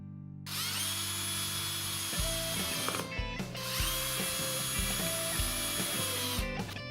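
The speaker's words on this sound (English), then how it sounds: "Screw the end braces directly to the short ends of the frame using 3 40mm wood screws" A power drill drives 40mm wood screws into the short ends of a wooden acoustic panel frame, with steady close motor whirring and a brief pause before it resumes, with no talk.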